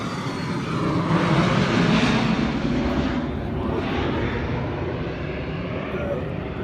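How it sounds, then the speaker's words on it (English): A jet aircraft taking off from a runway, heard as a loud, steady broadband engine roar that swells and stays strong throughout, with no talking. "A jet just took off."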